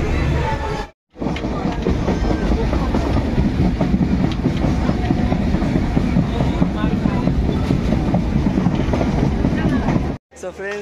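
A passenger train pulls away and runs on its rails on a family trip to Digha, heard from inside the carriage as a loud, continuous rumble and rattle with faint rhythmic clacking, broken by two brief drops near the start and end.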